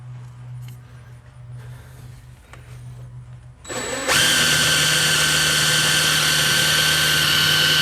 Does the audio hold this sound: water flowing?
no